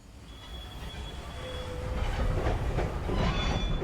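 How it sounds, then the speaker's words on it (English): A train ride inside the video game Cronos: The New Dawn, a rumbling carriage swelling louder over a few seconds, with a thin metallic squeal of wheels and rhythmic clacks near the end. "Wee, train ride."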